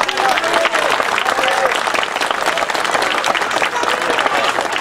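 An audience gives sustained, dense applause for a couple who have just performed at a competition, loud and continuous throughout.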